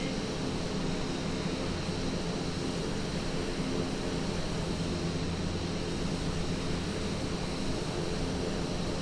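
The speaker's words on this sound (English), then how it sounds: "that is how you start the Avanti Piaggio P180" Piaggio P180 Avanti twin turboprop engines run steadily in a flight simulator, a constant broadband roar with a low drone, even and unchanging throughout, no voices.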